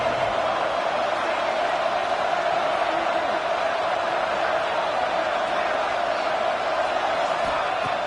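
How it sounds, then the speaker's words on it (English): A college football stadium crowd cheers in a steady, continuous roar that holds at the same level throughout without clear peaks. "Listen to the crowd energy"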